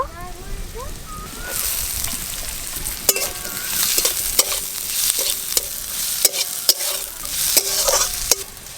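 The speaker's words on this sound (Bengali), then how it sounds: "আলু পেঁয়াজ একটু ভাজা ভাজা হয়ে গেছে" Potatoes and onions fry in a pan with cumin seeds and green chillies, sizzling steadily while a spatula scrapes and clacks against the pan in a repeated rhythm, with a voice briefly at the start.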